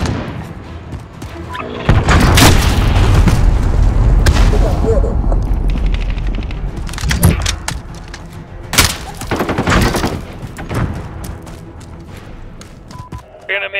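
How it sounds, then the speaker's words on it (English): Cruise missile strike explosions in Call of Duty: Modern Warfare team deathmatch, a run of heavy booms and thuds bursting loudly one after another with rumbling tails, mixed with game voice callouts. "Allied cruise missile launched."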